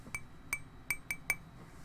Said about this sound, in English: Could be as simple as a clink of a glass